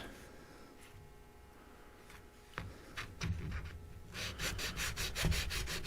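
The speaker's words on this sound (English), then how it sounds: "I'm going to do a slight bit more sanding on it." A replacement nut on a Glarry Telecaster-style guitar is sanded on the bench, with quiet scattered scrapes that turn into a steady run of close, rhythmic rubbing strokes toward the end, with no talking.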